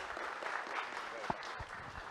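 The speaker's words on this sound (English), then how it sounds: "please give them a big round of applause" Faint, steady applause from an audience at a talk on right to information and right to knowledge, a soft continuous patter of many hands for about two seconds with no distinct claps standing out.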